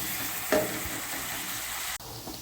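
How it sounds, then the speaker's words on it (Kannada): Onions fry with salt in a pan for aloo matar curry, a constant close sizzle, broken by a brief clatter early on and a sudden drop partway through. "ಚೆನ್ನಾಗಿ ಫ್ರೈ ಆಗಲಿ ನೋಡಿ ಈರುಳ್ಳಿ"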